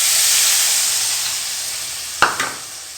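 Dried fish thokku with tamarind water sautés in a pan, giving a steady bright sizzle and hiss that fades slowly, broken near the end by a short clatter of stirring.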